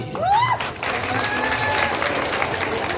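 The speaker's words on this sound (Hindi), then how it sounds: "जबरदस्त वाली ताली चाहिए तो जबरदस्त" Large crowd applause at an evening program in Madhubani, a thick, continuous roar of clapping with some cheering and a brief whistle near the start, loud and steady across the whole span.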